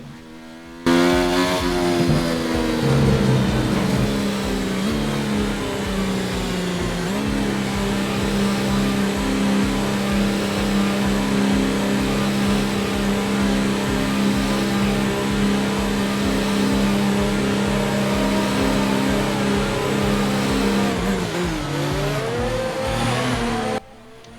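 A loud, high-revving Formula 1 car engine in the video game F1 2019 drones continuously, its pitch dipping and climbing as it shifts, then cutting out at the end.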